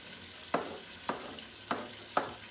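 Onions in a pan for a laid-back Thanksgiving dinner, heard as a low steady sizzle broken by five sharp stirring scrapes at regular intervals, with no talking.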